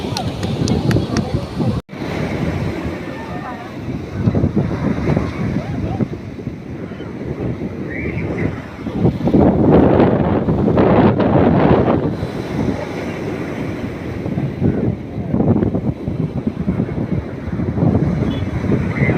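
Wind buffets the microphone at Ponnani beach while sea waves surge and wash in, making a loud, continuous roar that swells and eases, with voices faintly mixed in.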